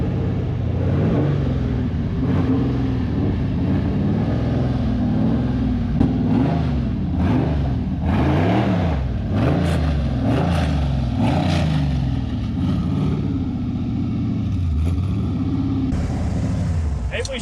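An LS V8 sandrail engine revs under load on a dyno, a loud, deep rumbling roar that swells and falls repeatedly through the run, with voices talking over it.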